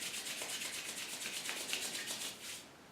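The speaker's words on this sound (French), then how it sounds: "je frotte mes mains" Hands rub quickly together in a fast, even rhythm of soft, close swishing strokes that slow and fade at the end.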